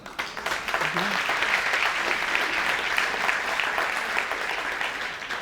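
An audience at a Rotary event breaks into loud, dense applause that holds strong and steady throughout, with no voices over it.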